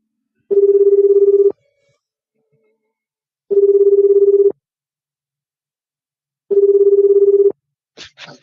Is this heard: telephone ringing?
yes